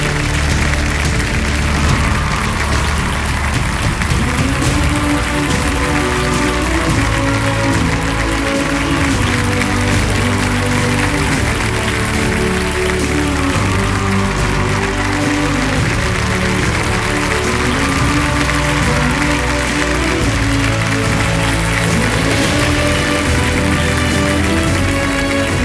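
A large audience claps loudly and continuously to welcome Bollywood actor Akshay Kumar on stage, a dense sustained roar of applause with faint crowd murmur throughout.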